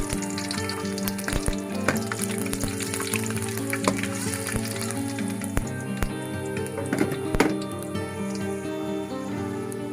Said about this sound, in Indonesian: Sebelum saya tumis bumbunya, saya tumis dulu bawang merahnya 1 siung.